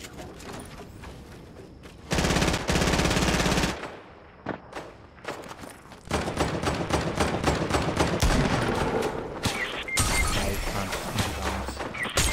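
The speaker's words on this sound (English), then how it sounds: "someone's shooting at me over here" Automatic gunfire in a battle royale video game comes in long, loud, rapid bursts, with brief pauses and scattered single shots in between.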